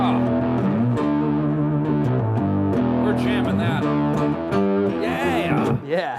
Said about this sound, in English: And I'll throw on my octave down, throw on a distortion.